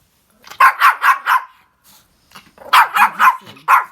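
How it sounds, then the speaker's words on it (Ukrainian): A dog barks nearby in two loud bursts of four sharp barks each, separated by a quiet pause holding a faint yip or whimper. "Собака надрывается"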